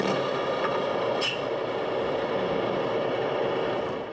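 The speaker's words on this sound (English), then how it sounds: "now we can close the door and hit the engine start button." A sound module in a Tamiya wrecker truck with an MFC-03 unit plays a diesel-style engine start that settles into a steady, loud rumbling idle, with a few brief clanks and no talking.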